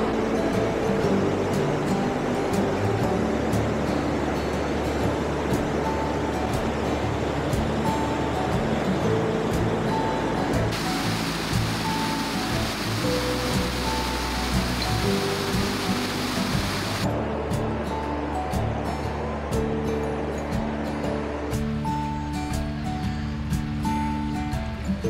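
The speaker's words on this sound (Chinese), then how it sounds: "这里的激流超强的" Powerful rapids of Ashura no Nagare on Oirase Stream rush in a steady, loud, unbroken roar of turbulent water, continuous throughout with no voices.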